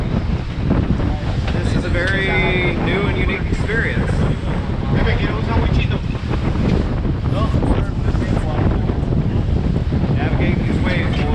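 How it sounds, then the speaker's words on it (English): A boat driven through ocean swells while fishing off San Juan, Puerto Rico: steady wind buffeting and rushing water with engine drone throughout, loud and close, under excited talk from several people. "And we're actually driving the boat."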